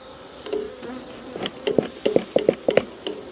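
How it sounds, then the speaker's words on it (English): Honey bees buzz close by at an open hive in short, uneven bursts, the hum rising and fading as they fly past, several overlapping loudly in the second half. "I've got a couple of bees around me at the moment"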